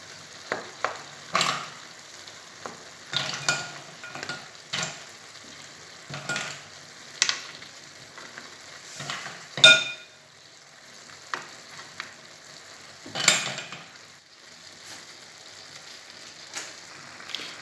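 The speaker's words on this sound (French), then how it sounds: "On remue un tout petit peu la paella sur les côtés, on s'assure que le riz n'a pas accroché bien sûr." A seafood paella with mussels fries in a wide pan while a spoon stirs the rice along the sides, giving a steady soft sizzle broken by repeated scraping and stirring strokes, with no talking.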